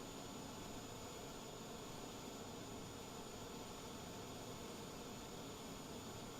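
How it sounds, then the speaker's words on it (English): An aircraft auxiliary power unit hums steadily at the gate in Microsoft Flight Simulator, a constant, noisy broadband whine with no pauses or voices. "I'm going to turn off the APU because it's too noisy"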